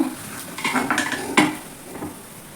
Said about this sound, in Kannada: ಇದನ್ನು ಒಂದು ಪ್ಲೇಟಲ್ಲಿ ಸರ್ವ್ ಮಾಡ್ತೀನಿ ಈಗ.